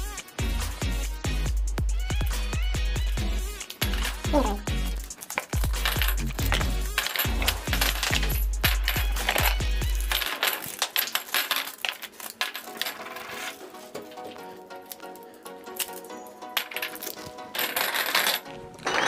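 Heavy ceramic-mix poker chips from a casino poker set clink and clatter in rapid bursts, close and fairly loud, with dense clicking that continues as the chips are shuffled and dropped.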